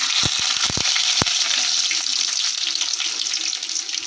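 Garlic sizzles lightly in hot oil in a pan, a steady soft crackle with a few sharp pops near the start, close and alone without talk.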